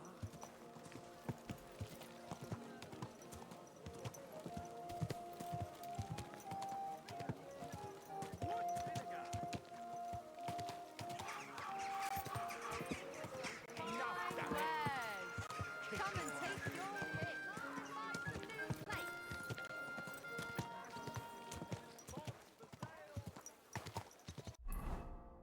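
Horse hooves clip-clop at a steady trot throughout in the video game Kingdom Come: Deliverance II, under continuous talking and background music, with a brief neigh.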